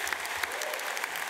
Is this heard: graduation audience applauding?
yes